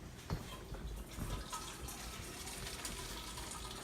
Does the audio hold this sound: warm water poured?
yes